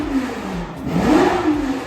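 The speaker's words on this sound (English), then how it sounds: "I heard this beautiful exhaust sound coming out from V10 or V12" A Ferrari Le Mans race car with a V10 or V12 engine sends out a loud, close exhaust note that rises and falls in pitch in a steady, revving drone, heard alone without voices.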